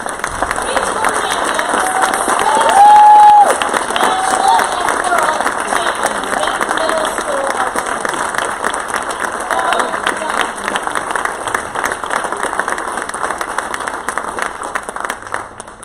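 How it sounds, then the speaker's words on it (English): At a school board session, a crowd gives a long round of applause with some cheering, sustained clapping over about sixteen seconds, with a brief whistle-like tone early on and murmuring voices underneath. "Would all of you again join me in a big round of applause?"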